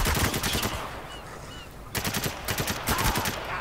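Rapid automatic gunfire in Spec Ops: The Line, close and loud bursts of rattling shots at the start, a brief lull, then another sustained burst.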